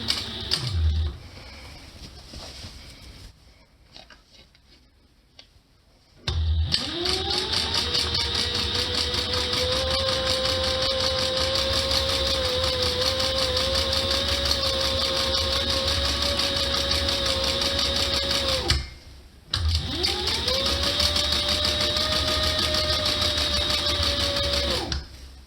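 Sewing machine stitching piping cord onto an upholstery cushion cover, with the cord held in the groove of a piping foot: a steady, fast mechanical whir running for long stretches, broken by a brief stop and then resumed, close and loud.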